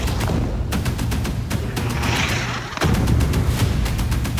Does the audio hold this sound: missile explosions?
yes